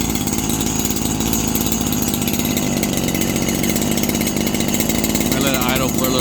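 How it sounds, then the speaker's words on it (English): A Stihl FS 76 string trimmer's small two-stroke engine runs continuously with a buzzy, raspy drone, steady and close, with a brief shift in pitch near the end. "There it goes. It's running."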